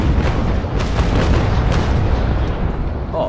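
Heavy naval cannon fire and impact rumble in Naval Action, the game's age-of-sail warship broadside battle, a dense sustained booming roar with repeated bursts rolling continuously and loudly throughout.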